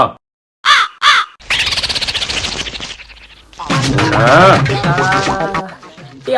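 A voice imitates a crow cawing in a few short, sharp caws, followed by a longer stretch of loud, harsh, strained crow-like calling close to the microphone.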